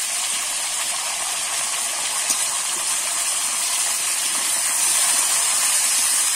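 Pumpkin, tomato and yardlong beans frying in a pan, giving a steady broad sizzling hiss that stays even and close throughout with no talking.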